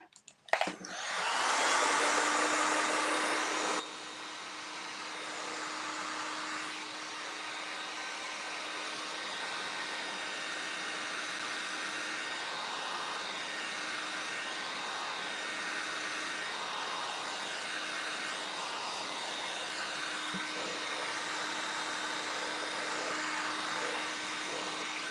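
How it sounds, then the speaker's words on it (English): A hair dryer starts with a click and roars steadily for a long stretch, louder at first, then a constant whooshing hum, used to heat-dry Fusion paint. "I'm going to use the dryer."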